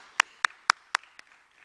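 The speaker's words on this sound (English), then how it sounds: "Let's give her a clap." Five sharp, evenly spaced hand claps from a lone person at a mining and energy investment conference, close and distinct in a quiet room, with the last clap softer.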